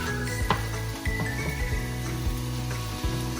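Sliced Granny Smith apples sizzle and fry steadily in a pan on the stove, a constant close crackle with a few light clinks and stirring taps of a utensil against the pan, and no voices.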